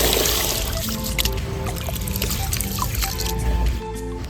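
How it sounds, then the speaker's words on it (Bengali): Rice is washed with water in a cooking pot, a steady sloshing and trickling with scraping clinks and splashes as the grains are swirled, close and fairly loud throughout. "চাল ভালো করে ধুয়ে নিচ্ছি।"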